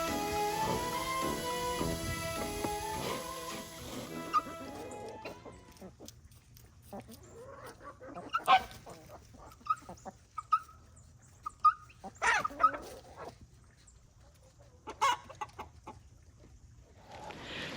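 Chickens cluck on a Florida farm with a sharp series of bird calls scattered across the clip, following a busy, louder stretch at the start that also has a dog in it.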